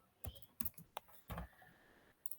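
Keys on a computer keyboard are tapped in a few separate, quiet clicks with short pauses between, close and alone in a quiet room.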